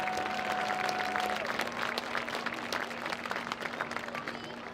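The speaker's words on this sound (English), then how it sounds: "Let's give another round of applause" A crowd claps in a dense, sustained round of applause at a high school homecoming football game, gradually tapering, with a steady tone ringing faintly beneath.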